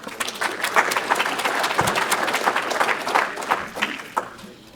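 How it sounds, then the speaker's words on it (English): A conference audience at a soil health farming event claps for Lance, the applause moderately loud and slightly uneven, with individual claps popping out of the crowd's steady patter before it thins toward the end. "Let's give Lance a round of applause."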